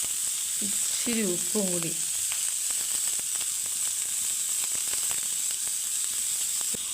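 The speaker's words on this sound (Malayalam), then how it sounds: "തക്കാളി അതും ഇതുപോലെ തന്നെ ലേശം ഓയിൽ ഒഴിച്ചിട്ട്" Tomatoes frying in a little oil in a home kitchen pan, giving a steady, close sizzle throughout. A voice speaks briefly over it near the start.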